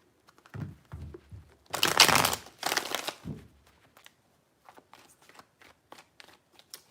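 Tarot cards are shuffled in three bursts, with a loud riffling rush in the middle and softer taps and flicks on either side, close and alone.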